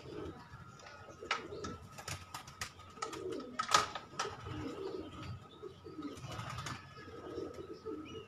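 Domestic pigeons cooing repeatedly in a loft, soft throaty calls recurring throughout at close range, with a few sharper chirps and faint wing flutters mixed in.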